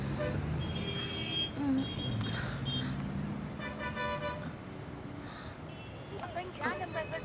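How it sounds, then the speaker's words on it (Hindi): Busy city street traffic with car horns tooting in short bursts over a steady rumble of engines, while people talk nearby. "ट्रैफिक।"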